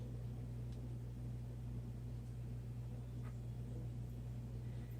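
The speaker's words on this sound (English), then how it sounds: "that is my sink because I have my washer and dryer going." A low, steady mechanical hum with a constant droning rumble, faint and continuous, from a washer and dryer running while the washer drains into a sink, with a few soft gurgles.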